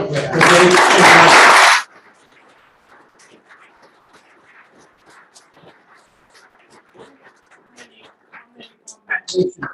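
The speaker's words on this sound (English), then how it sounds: "How about a round of applause?" A dense burst of audience applause rings out loud and close for nearly two seconds at a Lawrence County Museum talk, then cuts off abruptly, leaving faint scattered sounds and soft talk.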